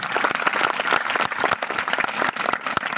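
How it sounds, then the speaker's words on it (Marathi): An audience bursts into brisk, loud applause, many hands clapping together in a dense close patter. "टाळ्या वाजवा तिसाठी जोरदार"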